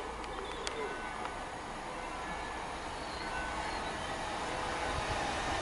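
Train passing Attenborough station on the Midland Main Line, a steady broad rumble and rail noise heard from the platform at moderate distance, with birds cooing faintly alongside.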